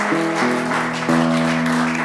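Applause from a live folk concert audience, steady broadband clapping lasting about two seconds, with a sustained tonal hum running underneath, moderately loud and fairly close.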